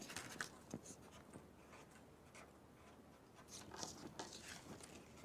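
Marker strokes on a board come as faint, irregular scratches and taps in a quiet room, close and soft with small pauses between words.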